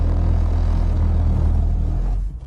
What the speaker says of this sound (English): car has done a spin